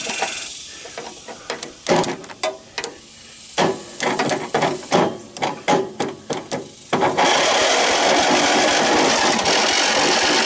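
A Snapper 38 inch cut riding mower, a scrap machine, cranking off the solenoid as it is jumped with a wrench: a series of loud, sharp bursts of grinding starter turnover, then a sustained loud hissing roar at the end.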